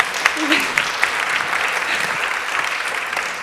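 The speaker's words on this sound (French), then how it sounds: "Je pense qu'on peut encore les applaudir bien fort." An audience applauds a performing team at the final of a verbal jousting contest, a dense, steady wash of clapping from many hands, with a few louder claps standing out and faint voices underneath.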